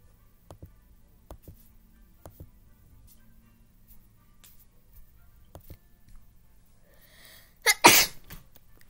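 A single sharp, loud sneeze bursts out near the end after a long stretch of near silence broken only by faint ticks and taps.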